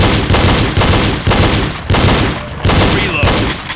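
Pistol shots ring out in a reload drill: a series of about six sharp, loud reports at an uneven pace, each followed by a brief decay, with no talking.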